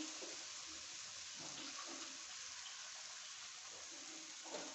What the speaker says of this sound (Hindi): और साथ ही हम इसमें 1 कप पानी डाल देंगे